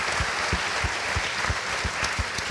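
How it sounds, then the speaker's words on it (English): A crowd applauds at a film Q&A at SXSW, dense steady clapping with regular strong individual claps throughout, close and fairly loud. "A huge round of applause."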